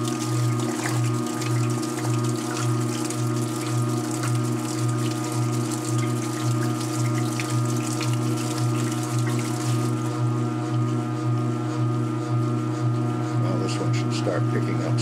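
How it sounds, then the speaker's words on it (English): A 1978 Maytag A408 washing machine drains water with a steady humming pump drone and gurgling before its spin cycle, close and constant, with the drain tone thinning toward the end. "Start picking up speed on the spin once the water gets out of there."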